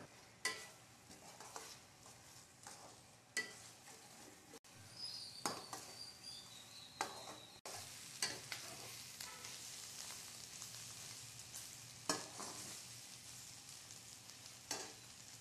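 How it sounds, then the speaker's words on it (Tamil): Egg and vegetables stirred together in a pan for egg noodles, a soft sizzle punctuated by intermittent spatula scrapes and clicks, fairly quiet and without talk. "முட்டையும் காய்களும் நல்லா ஒன்னா கலந்து வர மாதிரி கிளறி விடணுங்க"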